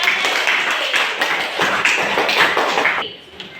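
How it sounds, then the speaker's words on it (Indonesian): A classroom audience claps for a group that has just finished presenting, a dense burst of applause lasting a few seconds before tapering off abruptly. "Tepuk tangan yang meriah"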